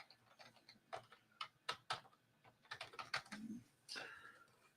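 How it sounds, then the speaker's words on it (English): Password typed on a Mac keyboard, a quick run of light key clicks in uneven bursts with short pauses, close and quiet. "I'm going to go type in password."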